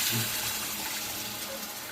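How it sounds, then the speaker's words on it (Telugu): Tamarind water pours steadily into a pot of gongura chicken pickle, a continuous splashing trickle close by, with no talking. "ఇప్పుడు ఇందులోకి మనం చింతపండు వాటర్ హాట్ వాటర్లో వేసుకున్నాం కదా ఇది వేసుకోవాలి"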